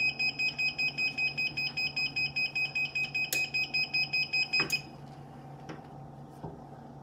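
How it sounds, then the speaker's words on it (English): A rapid run of sharp electronic beeps from a heat press, about fifteen evenly spaced, stops abruptly. A few clicks and knocks follow in a quiet room. "So it's gonna start beeping."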